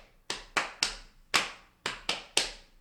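Bare hands tap out a 3:2 polyrhythm on a drum kit: seven sharp, close slaps in an uneven repeating pattern, each ringing briefly before the next, with no voices over them.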